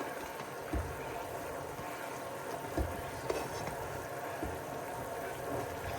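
Chopped tomatoes go into a pot of cooking mutton, faint sizzling and frying under a few soft stirring scrapes and light knocks, with no talking.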